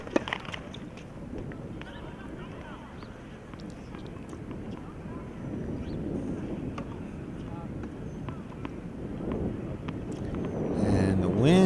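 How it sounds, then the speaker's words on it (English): Strong wind buffets an outdoor tennis court at a varsity boys' singles match, a steady low rumble of gusts across the microphone that swells toward the end, with occasional faint court sounds beneath. "And the wind appears to be back."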